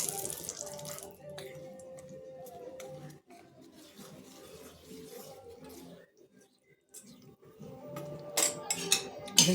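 Hot oil poured over crushed fenugreek seed in a kitchen, giving a soft, wet sizzling and hissing with a few louder crackles near the end.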